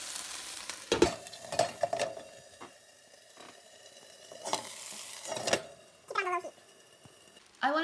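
Turkey burger patties fry in a covered pan with a soft sizzle, broken by scattered clatters and knocks, and a cat meows clearly near the end.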